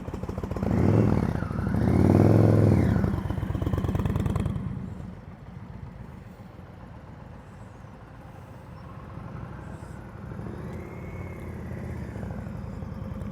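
A motorcycle engine runs close by at slow speed during advanced slow-speed riding practice in Colorado, rising in a loud revving swell early on, then settling to a steady lower drone that lifts slightly again later.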